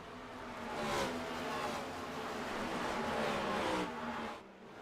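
NASCAR race cars roaring around Richmond Raceway in the iRacing sim, a continuous engine whine swelling and easing as cars pass, moderately loud with no voices over it.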